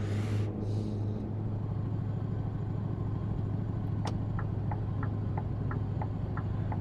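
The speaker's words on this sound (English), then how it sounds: "Except when I put the exhaust brake on there, it sounds like a bloody coffee grinder." A truck's exhaust brake in a trucking video game gives a steady, loud low rumble with a grinding engine drone, plus a short hiss near the start and a few light rattling clicks near the end.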